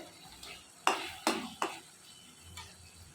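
A Bombay duck fish curry is stirred in a pan, a few sharp spatula scrapes and knocks over a soft low sizzle, close and unaccompanied by voices.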